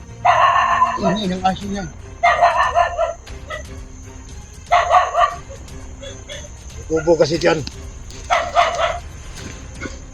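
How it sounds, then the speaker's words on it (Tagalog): Several dogs bark in repeated close, loud bursts of yips and barks with a few whimpers, separated by short pauses. People talk intermittently between the bursts. "Siguro nagwawala na yung mga aso na yan."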